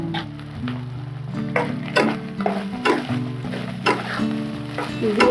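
Spices for tel potol, mixed with sugar and a little coriander leaf, sizzle and fry in a pan as they are stirred, with steady crackling and periodic scraping strokes over a sustained tonal hum.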